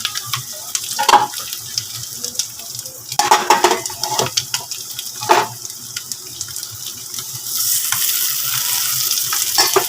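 Chow mein fries in a pan with a steady sizzle and repeated scraping stirs and clatters of a utensil, close and loud, and the hiss grows fuller toward the end.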